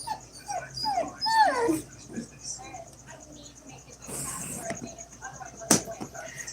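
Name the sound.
puppy whimpering in kennel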